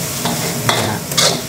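A spatula scrapes and stirs Thai fried rice with egg in an aluminium wok over high heat, with loud continuous sizzling and a few sharp scraping strokes, close up.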